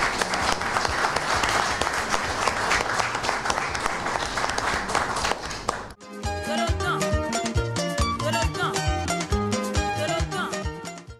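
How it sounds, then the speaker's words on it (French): Ovation at a political party meeting for a newly named national treasurer, a minister: loud sustained crowd clapping for about six seconds that cuts sharply into loud rhythmic music with percussion. "nous lui fassions une ovation spéciale de cette brillante ministre"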